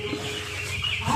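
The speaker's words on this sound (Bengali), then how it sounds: "সো গাইস এখন আমরা ফাইনালি মুরগিটাকে ধরছি।" A hen gives a short burst of agitated clucking as it is grabbed and caught, close by and brief.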